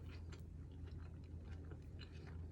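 Close-up chewing of a bite of avocado toast on very toasted Arnold oat nut bread with tomato, soft repeated crunches and mouth sounds over a steady low background hum.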